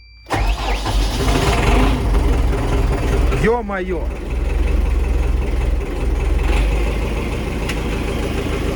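An MTZ-8 tractor engine cranks and catches, roaring loudly to life and then settling into a steady, close idle; a man exclaims briefly as it starts.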